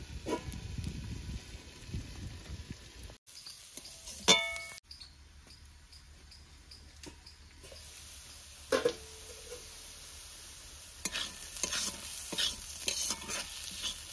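Spinach fries in a pan for a Bengali palong shak dish under a steady soft sizzle, with intermittent scraping and clinking as a spatula stirs it, close-up with no talking.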